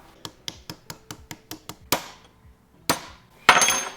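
A hammering utensil tapping shims into place during reassembly of a rat rod wrecker's gear housing: a steady run of about eight sharp metallic taps, then three heavier ringing strikes, close and loud with no voices.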